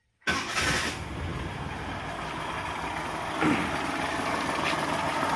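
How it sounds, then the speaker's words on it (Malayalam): A Maruti 800 in for alternator and bearing repair cranks and catches almost at once, then settles into a steady, fairly loud idle with a small surge partway through. "അപ്പോൾ നമ്മുടെ വണ്ടി സ്റ്റാർട്ടായിട്ടുണ്ട്."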